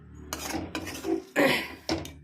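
Spoon scraping and stirring a thick rava bonda mixture in a pan, in several separate bursts of close, clattering metal-on-pan strokes with short pauses between them.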